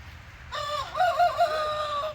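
A rooster crows once, loud and close, in a backyard flock of chickens, a single drawn-out call with no talk over it.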